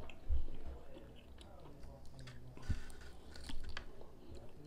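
Crunchy garlic Romano chicken wings from a pizza place being chewed up close, with soft bites and crunching at irregular moments over a quiet background.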